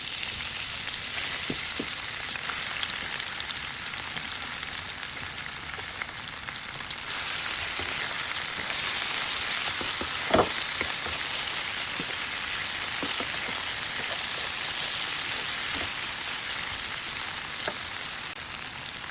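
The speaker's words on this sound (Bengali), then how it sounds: "ফ্রাই প্যানে তেল দিয়ে দিয়েছি, গরম হয়ে গেছে, এখন আমি ঢেলে দেবো" Small fish fry in hot oil in a frying pan, a dense, steady crackling sizzle that sounds like rain and continues for a long stretch with occasional sharper pops and stirring clicks; nobody speaks.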